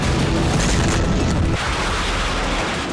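Explosions in Crimea produce a loud, deep rumbling roar of blasts that fills the first half, then eases into a lower, continuing rumble.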